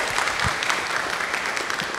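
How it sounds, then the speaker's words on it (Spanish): Loud, dense applause from an audience at a conference session on decarbonization in environmental management, steady clapping throughout with no voices over it. "Fuertes palmas para él, por favor."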